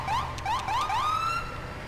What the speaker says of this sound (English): also have some new sirens in. So these are pretty cool.